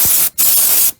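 Compressed air spray dusting the motherboard of a late-1990s HP Pavilion 6636 desktop with a Celeron 500 MHz: two loud, close hissing bursts, a short one followed by a brief gap and a longer blast that then cuts off.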